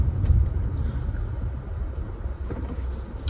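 Car driving along residential streets in a Kendall, Florida neighborhood, a steady low engine and road rumble with tire noise, moderately loud and continuous throughout.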